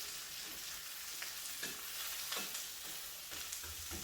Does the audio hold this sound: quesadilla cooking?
yes